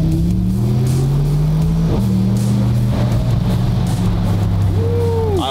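Loud car engine revving close by, a droning growl rising and falling in pitch with a sharp upward rev near the end.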